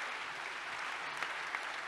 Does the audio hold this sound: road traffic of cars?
no